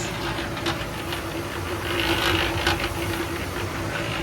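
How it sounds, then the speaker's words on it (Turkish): A rotating seed-treatment drum tumbles onion seeds, giving a steady mechanical rattle and ratcheting clatter with repeated clicks as it turns, close and continuous, no voices. "Makine çok güzel bir makine. O döndüğü o arasındaki şeylerin sayesinde her döndüğü turda hava alıyor."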